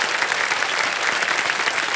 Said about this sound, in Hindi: ताली बजाना आप लोग का